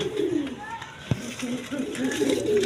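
Rajgolla pigeons cooing in a coop among other pigeon breeds, low throaty coos rolling in soft phrases near the listener, with someone talking over them and a brief knock midway.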